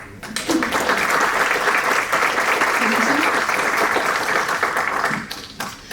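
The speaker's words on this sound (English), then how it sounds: "that alone, I think, is a reason to applaud the jury" An audience at an awards ceremony breaks into sustained applause for the jury, a thick, even roar of clapping that holds for about five seconds, then thins out as a voice returns near the end.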